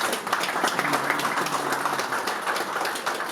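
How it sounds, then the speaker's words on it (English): Men in an audience applaud together, a steady wash of clapping that holds at an even level for a few seconds without speech. "Not every man is applauding because they're scared."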